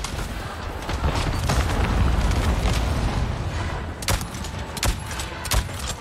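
A grenade goes off during combat in the video game Avatar: Frontiers of Pandora, a loud rumbling blast amid gunfire, followed by several sharp shots.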